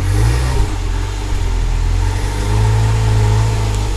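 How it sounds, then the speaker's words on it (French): A car engine runs steadily at low-to-mid pitch as the vehicle rolls into a workshop, with a slight rise in revs partway through, close and fairly loud with no talking. "maintenant, l'entrée du véhicule dans l'atelier"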